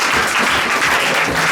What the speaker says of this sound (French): On acclame plus fort pour la parole de Dieu.